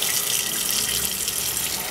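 Water runs steadily from a tap into a pot in a home kitchen, a loud continuous splashing rush with no pauses.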